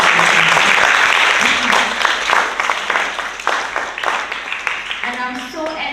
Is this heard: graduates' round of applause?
yes